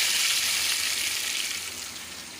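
Dense, continuous hiss and crackle of taro (arbi) pieces frying in hot oil, close and even, slowly easing in intensity, with no talking.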